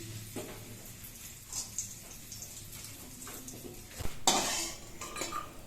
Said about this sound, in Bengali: রাইস ব্র্যান্ড অয়েলের মধ্যে আগে কিশমিশগুলোকে ভেজে নিই